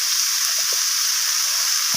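Radish, kohlrabi and cauliflower stems fry in a pan with turmeric and red chilli powder, a dense, even, close sizzling hiss that holds steady throughout, with a few faint soft knocks underneath.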